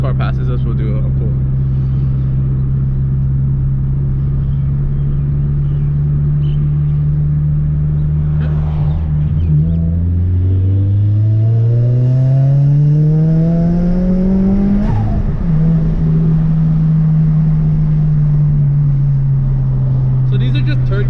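An HKS turbocharged Subaru BRZ pulls hard in third gear from about 2,000 to 6,500–7,000 rpm, engine note climbing steadily under heavy cabin rumble, with a brief shift-like dip and a return to cruise.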